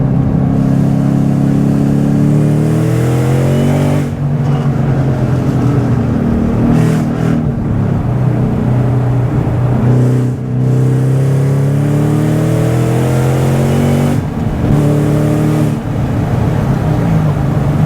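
A Ford Mustang Shelby GT500 rated at 760 hp accelerates hard from inside the cabin, its engine note climbing through several gears with brief dips at each shift, loud and continuous throughout.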